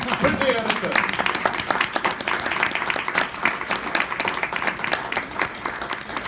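Audience at a small live music show at the Oaks in Denville applauding an accompanist, dense clapping throughout with a voice talking over it.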